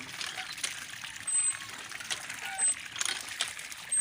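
Water gushes from a hand pump in uneven spurts, splashing and trickling close by in short bursts with brief lulls, fairly quiet overall.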